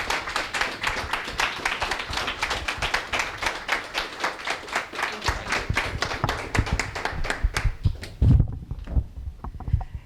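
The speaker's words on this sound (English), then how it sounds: "Give her a round of applause." An audience at a history lecture claps for a speaker being introduced, dense individual handclaps that thin out and fade toward the end, with a few thumps and low noises after.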